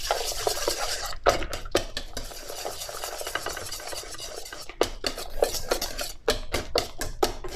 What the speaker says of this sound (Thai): ใช้ตะกร้อมือตีให้เขาเข้ากันนะคะ